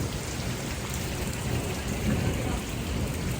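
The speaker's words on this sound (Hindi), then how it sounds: "लेकिन ये बारिश हो रही है। ये देखें कितना पानी है।" Heavy rain pours down outside a home on a stormy day, a dense, steady hiss of falling water that stays loud and even throughout with no distinct thunderclap.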